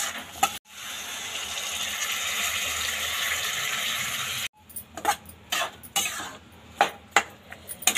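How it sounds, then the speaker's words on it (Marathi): Washed barnyard millet poured into a pan for a spiced fasting rice dish, a sustained rushing hiss for several seconds, followed by clinks and scraping of a spoon against the metal pan, close by with no speech. "आता आपण लगेचच ह्याच्यामध्ये जी वरई धुवून ठेवली होती ती टाकून घेऊया।"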